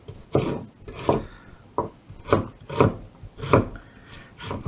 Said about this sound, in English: you're just basically chopping any old vegetables you've got